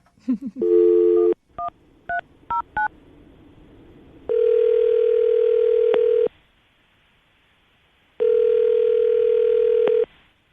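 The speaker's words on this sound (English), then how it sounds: "I'm going to call him right now and see if we can get him on the phone" Touch-tone dialing beeps in a short burst, then a phone ringback tone sounds twice in long, evenly spaced rings with silence between.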